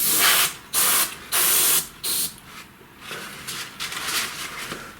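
An airbrush blowing air in short bursts, several loud spray hisses with pauses between, then a steadier, softer flow of air near the microphone.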